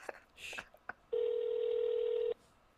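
A telephone call rings out as a single sustained electronic tone lasting over a second, preceded by short clicks and muffled voices from people nearby.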